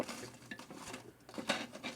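Ashes are stirred inside a Big Green Egg ceramic grill, giving faint, quick scraping and rattling clinks of a metal tool against grates and charcoal over a couple of seconds.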